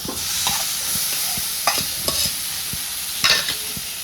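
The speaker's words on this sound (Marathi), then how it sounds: "तर शेवगा आणि कोथिंबीर छान असं ह्यात मिक्स करून घेते" Drumstick pods and fresh coriander stirred into softened tomatoes in a hot pan, a steady sizzle under repeated spatula scrapes and knocks against the pan, close and fairly loud, with no talking.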